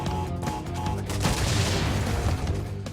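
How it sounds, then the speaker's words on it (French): A TNT crate blowing up in the video game Crash Bandicoot N. Sane Trilogy, a dense, sustained roaring blast with crackling debris over a steady game music bed, loud for about three seconds. "J'ai cru que je me suis fait toucher par l'explosion du TNT."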